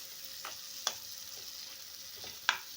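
Curry leaves hit a pan of spicy egg gravy with a soft, steady sizzle, punctuated by a couple of sharp pops and faint stirring scrapes, fairly quiet and close.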